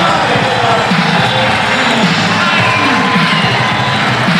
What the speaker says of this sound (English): listen to the crowd here at the Garden as they cheer on the local favorite